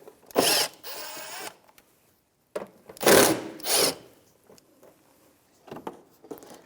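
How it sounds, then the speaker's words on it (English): A ratchet with a 10mm socket works the inner fender liner mounting bolts loose on a 2013-2018 Toyota RAV4, giving three short, close bursts of rasping clicks with quiet gaps between them. "Now we have just 2 mounting bolts left with the 10mm socket,"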